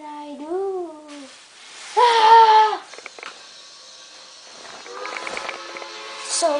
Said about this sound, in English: Toby blew his three times steam whistle. It was loud.